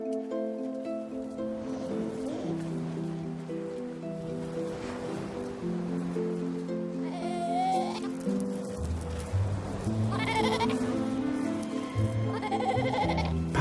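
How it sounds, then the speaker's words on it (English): Young Patagonian sea lion pups only a few months old bleating on a breeding beach, overlapping wavering goat-like cries, some near and loud, over a steady wash of surf. "Patagonian sea lions."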